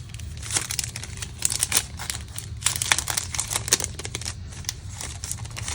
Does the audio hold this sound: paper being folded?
yes